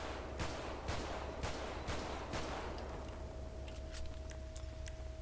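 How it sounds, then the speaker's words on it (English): Pistol shots from a Desert Eagle in the game FiveM ring out as several sharp, evenly spaced cracks, then a few fainter clicks over a steady background hum. "Then we're gonna shoot the Deagle off."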